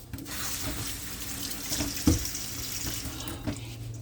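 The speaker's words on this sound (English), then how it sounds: "Let me wash my hands." Hands being washed under a running kitchen tap while preparing a homemade apple pie: a steady rush of water into the sink with a brief splash about halfway through and a softer one near the end.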